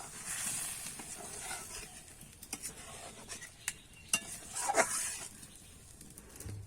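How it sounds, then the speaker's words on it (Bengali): Watery bhetki fish curry gravy being stirred in a pan: a faint, soft hiss broken by a few light scrapes and clinks of the spoon. "এবারে কিন্তু আমি ভালো করে নাড়িয়ে চাড়িয়ে নেবো"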